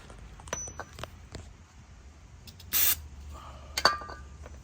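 Aerosol brake cleaner sprayed in a short, loud hissing burst onto a rear brake caliper slide pin on a 2012-2020 Toyota 4Runner, with faint clinks of tools in a quiet garage before and after.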